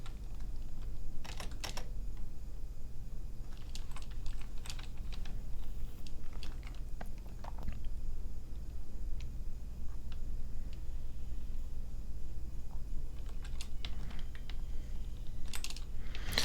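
Keys tapped on a computer keyboard while editing in Adobe Premiere Pro, scattered short clicks and brief bursts of pressing, close but fairly quiet over a low steady room hum, no one speaking.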